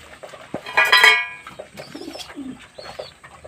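Pigeons feeding on paddy and grain from a tray give a few soft, low coos close by, with a brief flurry of wing flutter and light tray clatter.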